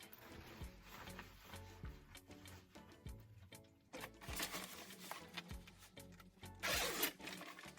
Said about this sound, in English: Let's match the zippers first.